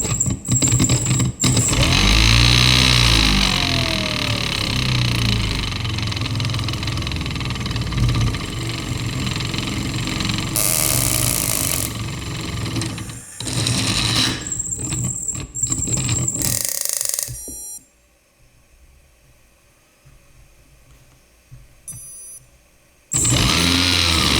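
A homemade jet engine built from soda cans runs on gas with a loud, steady roaring hiss and rumble that shifts as it is throttled, then cuts away to near quiet before a loud burst returns at the end.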